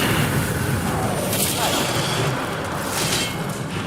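Magical spell blasts fired in the Hogwarts Legacy video game, a dense, continuous barrage of booming bursts and crackling impacts with no clear gaps between them.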